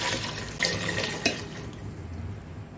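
Yakhni stock for beef pulao pours into a cooking pot, a steady close liquid splashing and gurgling with a couple of louder sloshes, no talking.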